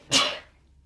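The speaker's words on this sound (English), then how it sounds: "I gotta sneeze." One sharp, close human sneeze during a podcast conversation: a sudden breathy burst that trails off quickly into quiet.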